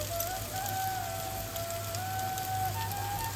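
Fried potatoes tossed into a pan of well-cooked spice paste for soybean curry, giving a steady, close sizzle with a faint tonal whine above it, no talking.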